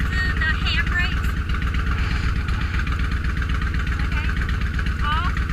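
Motorcycle engine idling steadily during a Virginia motorcycle skills test, a close, constant low throbbing rumble with occasional higher chirps and people talking over it.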